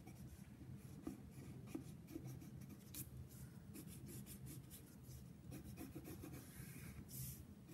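A white colored pencil drawing on paper, a faint, close, continuous scratchy rubbing in quick back-and-forth strokes with no voices.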